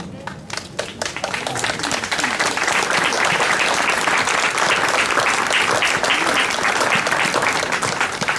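A church congregation at a parish Mass claps in sustained, dense applause that swells quickly and stays loud and even for several seconds.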